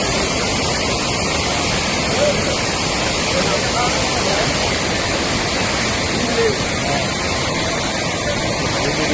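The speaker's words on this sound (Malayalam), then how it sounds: "ഈ വെള്ളം ഇത്ര ശക്തിയിലങ്ങ് അടിക്കുമ്പോഴേ" A powerful torrent of water rushes after the landslide at Vilangad in Kerala, a loud, constant roar that fills the whole stretch without pause.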